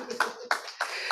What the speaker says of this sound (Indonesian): Haleluya, tepuk tangan dong.